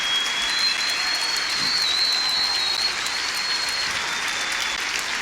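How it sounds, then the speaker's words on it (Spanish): An audience applauds after a poetry talk about the poet Jaime Sabines, a dense continuous wash of clapping held at a steady level throughout, with no voices over it. "Estos son aplausos."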